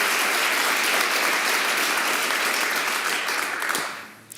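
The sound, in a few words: audience applause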